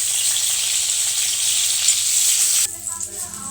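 Eggplant slices fry in hot oil with a bright, continuous sizzle close by, holding steady before easing down near the end, with no voices.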